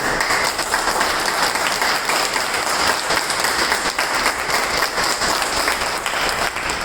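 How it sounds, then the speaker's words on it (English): A room of people at a Whitefield club meeting gives guests a steady, full round of applause. Dense clapping holds at an even level for several seconds with no clear speech over it. "I would like all of us to give a huge round of applause to all the guests available over here."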